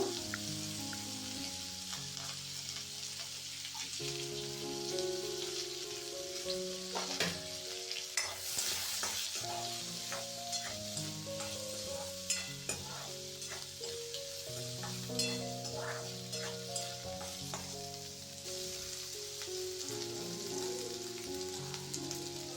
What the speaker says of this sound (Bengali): তো আলুগুলো একটু লাল লাল করে ভেজে নেব